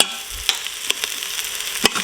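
Spices and whole cardamom stirred in the hot pot of an Instant Pot, a spoon scraping with sharp clicks over a steady sizzle, with no talking.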